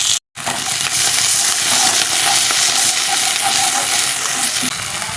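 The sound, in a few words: ginger garlic spice paste frying while stirred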